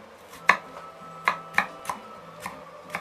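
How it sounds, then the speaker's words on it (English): A knife chops turkey ceviche ingredients on a board in a quiet kitchen: about seven crisp, separate thuds at an uneven, unhurried pace, close and clear with no talking. "gently chop them up."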